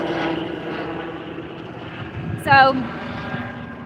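A helicopter flies overhead near downtown hospitals, a low, steady rotor drone heard indoors beneath a person speaking, with a brief louder thump near the end.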